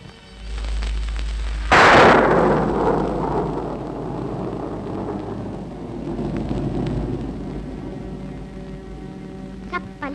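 A sudden loud thunderclap booms over steady rainfall, then rolls and rumbles away for several seconds while rain keeps falling, with a few faint patters near the end.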